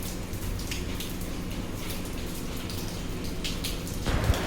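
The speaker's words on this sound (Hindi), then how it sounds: "सुबह से लगातार बारिश हो रही है।" Heavy rain pours down outside in a steady, dense hiss that holds evenly throughout with no talking.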